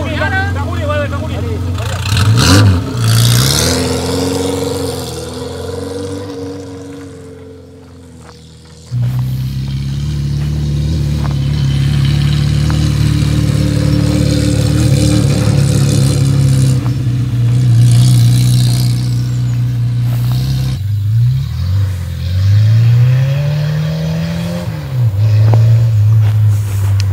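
A Renault 4L race car engine revs and pulls away, a steady mid-pitched drone rising and falling with throttle blips, loud and close, with people talking over it.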